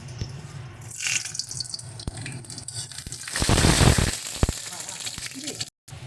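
Whole spices, bay leaves and dried red chillies hit hot oil for a tempering, giving a bright crackling sizzle that swells in the middle and then settles, with speech nearby.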